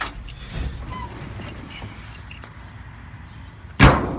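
Car keys jangle in one brief bright burst near the end, after several seconds of low background rumble and small clicks.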